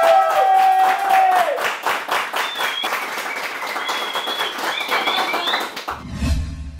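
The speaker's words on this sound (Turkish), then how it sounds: "ben ve ekibim bu ödülü bize layık gören sizleri alkışlıyoruz" Studio audience applauding at the Turkish comedy show P!NÇ, a dense, loud burst of clapping that fades gradually before cutting off abruptly.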